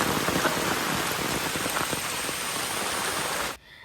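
Heavy rain pours down outdoors, a dense, continuous hiss of drops pattering on surfaces close by, steady and loud until it cuts off abruptly near the end.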